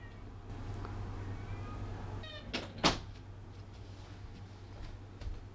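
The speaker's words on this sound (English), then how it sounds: "he hasn't stopped meowing for like 3 minutes" A soft, faint cat meow rises briefly over a low steady hum, followed by a couple of sharp knocks like a cupboard door.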